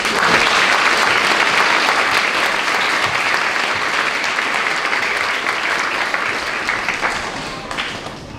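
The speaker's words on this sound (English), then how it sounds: "Would we please have a round of applause for all our models." Sustained audience applause fills a school uniform parade at a centennial celebration, dense clapping held loud and steady throughout before tapering slightly at the end.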